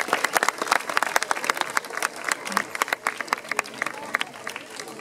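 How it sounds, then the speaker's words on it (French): Crowd at a Course Landaise in Estibeaux applauding a bullfighter, with sparse, distinct claps in an uneven rhythm over the murmur of spectators and a voice in the background. "Julien Guy qui mérite des applaudissements supplémentaires."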